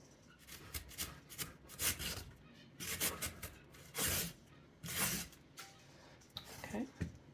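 Carrot rubbed in long strokes across a grater, making repeated scratchy rasping bursts about once a second, close and fairly quiet, with brief pauses between strokes.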